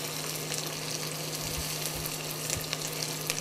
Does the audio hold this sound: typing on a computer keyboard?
no